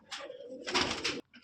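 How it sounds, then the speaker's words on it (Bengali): A pair of performing pigeons coos close by, one soft throaty coo swelling into a louder rolling call before cutting off, then a brief faint murmur. "এই যে এক জোড়া পুরা বাজির কবুতর"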